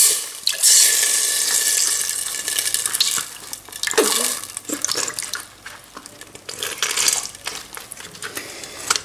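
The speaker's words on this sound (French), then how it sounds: "je vais arroser avec du lait de coco pour bien préparer la sauce" Light coconut milk splashes and pours into a sauce in a pan. The stream runs loud and steady at first, then breaks into irregular splashes and trickles, with nobody speaking.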